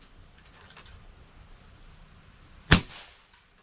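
A single moderated airgun shot firing a supersonic H&N Hornet pellet, one sharp loud crack standing out against quiet background, followed by a brief fading tail.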